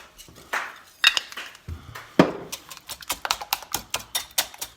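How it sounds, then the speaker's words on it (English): Pepper ground by hand into seasoning for a moussaka: a close run of quick, dry, evenly spaced clicks and crunches from the grinder, repeating steadily for a few seconds with no talk. "Get some pepper in there."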